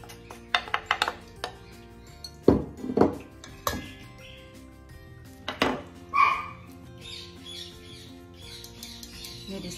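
Milk and carrot cake ingredients go into a mixing bowl in a home kitchen, with scattered clinks and knocks of utensils against dishes followed by softer shuffling and pouring sounds, close and moderately loud.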